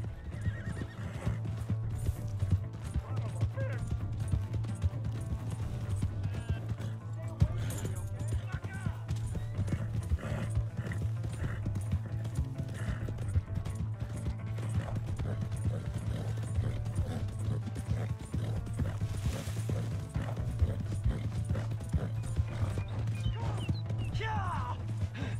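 A horse in the Western video game Red Dead Redemption 2 runs with steady clip-clop hoofbeats and a whinny, set under continuous game sounds and character dialogue.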